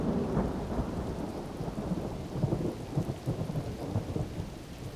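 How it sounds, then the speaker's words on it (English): Steady heavy rain with rolling thunder across the open African plains, a dense continuous roar with deep low rumbles swelling and fading throughout, no voices. "the skies darken and rain-laden clouds roll in"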